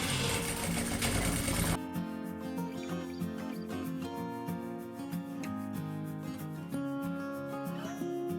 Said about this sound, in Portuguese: vou passando uma costura devagar para você não costurar no lugar errado.